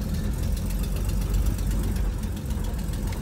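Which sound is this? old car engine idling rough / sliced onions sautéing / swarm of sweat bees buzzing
old car engine idling rough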